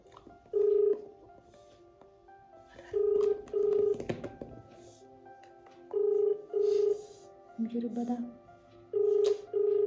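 Telephone keypad tones beep in short bursts and pairs at close range while someone places a phone call at home, with faint background noise between the tones.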